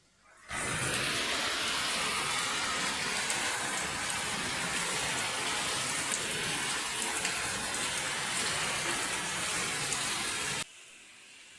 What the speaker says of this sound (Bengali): তোমাদেরকে একবার বৃষ্টির আওয়াজটা শোনাই, চলো, তাহলে তোমরা বুঝতে পারবে কত জোরে বৃষ্টিটা হচ্ছে